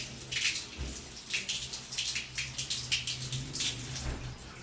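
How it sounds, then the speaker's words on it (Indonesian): Water running from an opened tap for hand washing, a steady splashing stream with irregular pulses, close and alone without talk. "Lalu mencuci tangan dan membuka keran."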